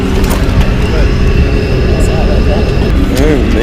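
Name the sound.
engine of a super tiny passenger plane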